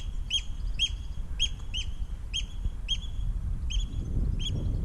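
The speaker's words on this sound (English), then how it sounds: "Noisy birds. There's a lot of nesting at the moment." Nesting birds on a beach call repeatedly in sharp, evenly spaced chirps, about ten in a row, over a low rumbling outdoor background.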